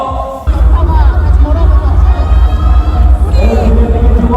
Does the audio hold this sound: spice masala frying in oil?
no